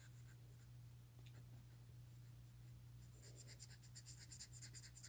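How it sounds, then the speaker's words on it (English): Someone colours a Captain America Chocobo drawing, giving faint scratchy pen or pencil strokes that turn into quicker repeated scribbles near the end, over a steady low hum. "So I'm coloring the collar first."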